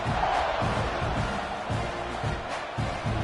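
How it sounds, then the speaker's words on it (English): Texas A&M versus Tennessee football stadium crowd roars and buzzes after a score, a dense continuous wash of cheering voices with surging swells, loud and all around. "this crowd is buzzing after that last score"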